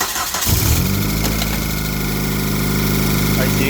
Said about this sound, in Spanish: vamos a dar arranque después de haber corregido lo del tensor